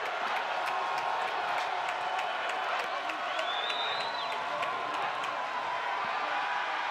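A home crowd at a Bowling Green college football home opener against Maryland fills a stadium with a steady, broad roar of cheering and scattered clapping, while a commentator talks over it.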